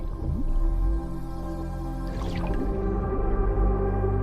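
A deep-diving beaked whale calls underwater with tonal whistles and sweeping chirps over a steady low rumble, then a brief burst of clicks near the middle.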